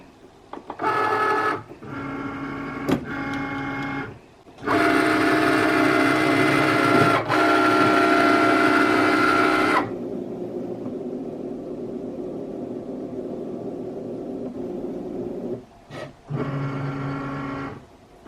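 Cricut Maker cutting machine detecting the design and engraving tool for a stainless steel dog tag, loud mechanical whirring runs in several bursts of varying length with pauses between them, then a quieter steady hum.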